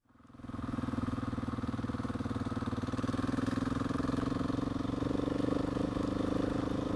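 A motorcycle rides on a wet road, its engine starting up and then holding a steady, close, rumbling drone with a rough, clattery texture that runs unbroken to the end.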